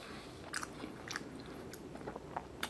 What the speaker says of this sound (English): the crunch from the bread